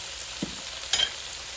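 Black pepper and green chili stir-frying in a wok make a steady, close sizzle, with a spatula clinking and scraping against the metal a couple of times.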